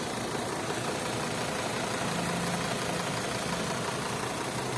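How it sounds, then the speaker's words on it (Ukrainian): A Volkswagen automatic car with a 2.5 engine and gas (LPG) installation idles steadily and evenly, a continuous low engine hum with no talk over it. "Моторчик теж працює рівненько, гарно."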